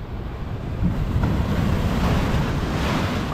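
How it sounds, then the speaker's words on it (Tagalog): Strong ocean waves roar continuously with heavy low rumble and wind buffeting the microphone, loud and close with no voices. "Sobrang lakas ng alon"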